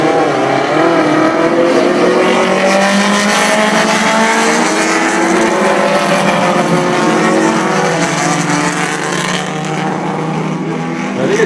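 Race cars roar past on the Put-in-Bay road race course in a loud, continuous stream of engine noise, with revs rising and falling as they go by and no voices heard.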